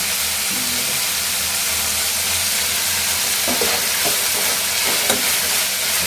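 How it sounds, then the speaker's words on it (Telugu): Garlic frying in a hot pan with broad beans, a constant loud sizzle and hiss with a few scraping stirs of a spatula toward the end. "బాగా మళ్ళీ కలుపుతున్నాం"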